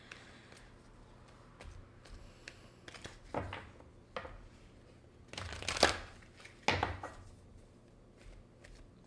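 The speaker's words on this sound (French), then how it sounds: "J'aime ça brasser les cartes à 11-11." Tarot cards being shuffled by hand, with soft riffling and sharp slapping bursts scattered irregularly across the stretch, a few louder snaps near the end.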